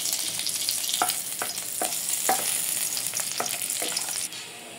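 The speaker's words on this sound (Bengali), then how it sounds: "2টা তেজপাতা, এলাচ দিচ্ছি, একটু ফাটাই দিয়েছি।" Bay leaves and cardamom crackling in hot ghee in a pan, a steady loud sizzle with several sharp pops spread across it, the frying dropping off abruptly near the end.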